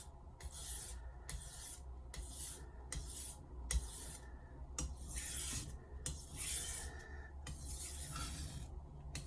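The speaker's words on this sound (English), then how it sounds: "we're deburring now, guys." A 210mm Misono Japanese knife being deburred on a sharpening stone: a series of short, soft, rhythmic rasping strokes with brief gaps between them, close and fairly quiet, with no talking.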